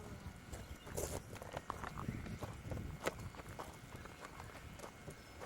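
Hooves clip-clopping unevenly on the ground as a month-old foal shifts and steps about nearby, scattered thuds and scuffs at a moderate level.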